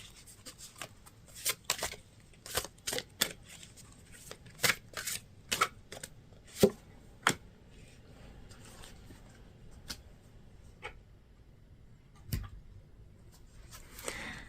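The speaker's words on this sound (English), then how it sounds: "So as I'm shuffling out these cards" Tarot cards being shuffled in repeated crisp riffles and snaps, close and fairly quiet, with pauses between bursts and no talking.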